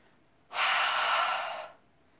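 A single long exhale during a bellydance chakra meditation, a soft breathy whoosh that swells quickly, holds steady for over a second and fades, heard alone in a quiet room.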